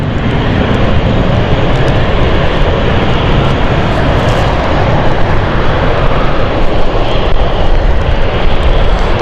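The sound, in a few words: airplane, Frankfurt flight arriving at London City Airport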